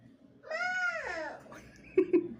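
A young child imitates a cat's meow with one drawn-out, rising and falling vocal mew, followed by a couple of short thumps.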